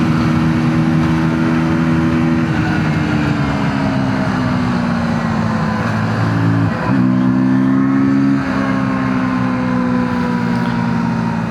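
KTM Duke 160 and Yamaha MT-15 motorcycles accelerating hard side by side in a road drag race, steady loud engine drone with rising pitch shifts and a brief gear-change dip midway.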